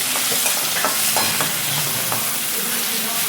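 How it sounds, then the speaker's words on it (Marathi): Chopped tomato stirred and fried in a pan with onion, a steady close sizzle with soft scraping strokes of the spoon every half second or so, no talking. "टमाटा चांगला हलवून घेते"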